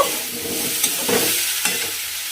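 Vegetables with spring onion stalks and a half spoon of sugar are stirred in a hot frying pan: a continuous sizzle broken by a few scraping spatula strokes, close and clear with no talking.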